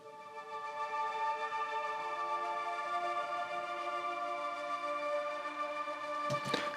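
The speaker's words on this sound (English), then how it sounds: "And I basically just stacked up 3 very different sounding pads." Three very different synth pads are stacked into one dense, sustained chord for an Afro house track, full of texture and movement. It plays loudly and continuously, with no voices.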